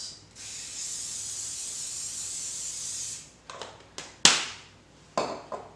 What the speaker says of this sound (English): You want to spray the molds first.